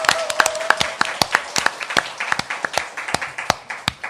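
A small studio audience claps for the opening of a current-affairs talk show, the individual hand claps distinct and rhythmic, close and fairly loud, with a brief vocal sound early on.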